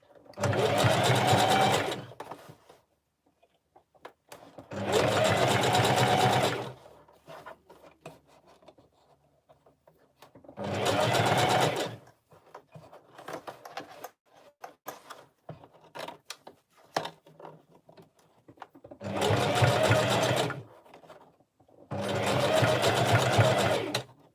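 A sewing machine stitches a wig marking in loud, close bursts of rapid mechanical whirring, five runs of a few seconds each, separated by quiet gaps with small handling clicks and rustles.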